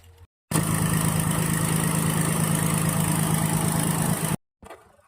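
The engine of a sand-dredging river boat on the Tungabhadra river idles in a loud, even rumble that starts abruptly and holds steady for about four seconds before cutting off.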